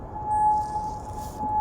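A civil defense air raid siren in Kuwait, warning of incoming rockets or drones, holds a single steady tone at moderate distance over a rumbling background, with no voices during this short stretch.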